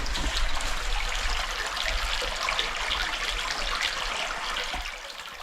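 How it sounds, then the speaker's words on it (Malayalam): Water streams and trickles through a cave in Meghalaya, making a continuous gurgling rush that stays fairly close and steady and fades slightly at the end, with no voices. "വെള്ളം ഒഴുകി പോകുന്ന ആ ഒരു ശബ്ദം"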